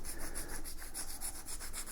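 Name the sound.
sandpaper scuffing an EUC inner tube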